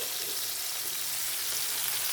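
Tomatoes sautéing in a pan give a continuous, even frying hiss that stays broad and steady throughout, with no voices.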